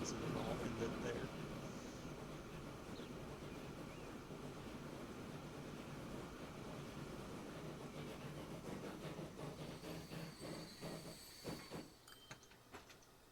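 A wood-fired steam train runs along a line in the video game Transport Fever 2, a faint, steady rumble of rolling wheels with rhythmic clacks that grow more distinct toward the end.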